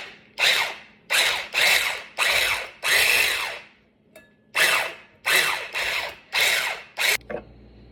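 An electric hand mixer beats jello cheesecake pudding in repeated short bursts, a loud close whirring that starts and stops about nine times with brief gaps between.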